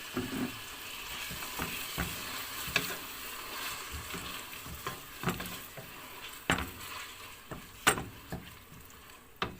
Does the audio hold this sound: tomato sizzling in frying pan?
yes